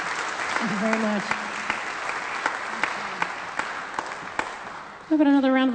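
An audience at a live folk music concert applauds steadily, clapping under a voice, then the clapping swells louder near the end as someone speaks over it.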